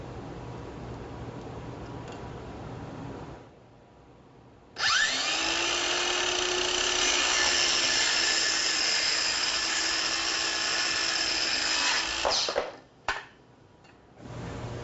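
A power saw set to a 15-degree bevel cuts through lumber for sawhorses, running as one loud, steady whine for about eight seconds before it spins down, with quieter shop noise before and after.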